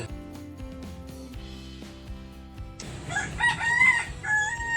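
A rooster crows loudly partway through, its long call rising over a quieter background of tonal hum and faint clucking.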